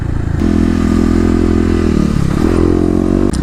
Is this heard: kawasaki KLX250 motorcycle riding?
yes